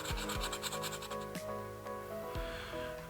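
Brisk back-and-forth scrubbing works green corrosion off a Commodore A501 RAM expansion board. The strokes are close and steady, and the surface has been treated with vinegar.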